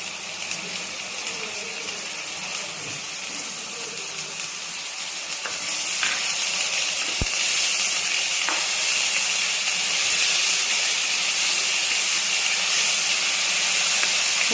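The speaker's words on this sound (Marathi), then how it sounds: "आता ही हिरवी मिरची आणि दोन टोमॅटोची पेस्ट आहे ती पण टाकून घेते" Green chillies and a paste of two tomatoes hit hot oil in a pan, hissing and sizzling steadily with soft stirring scrapes, the sizzle growing louder and brighter partway through as the paste spreads.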